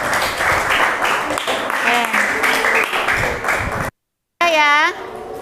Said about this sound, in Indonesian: Tepuk tangan untuk kelompok Benedikta.